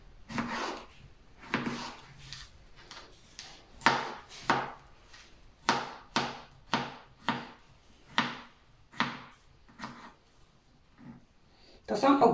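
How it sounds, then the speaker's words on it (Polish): A knife dices homemade pickled cucumbers on a board, about a dozen crisp, evenly spaced chops close by, with a short pause near the end before a final cut. "Kroimy w kostkę."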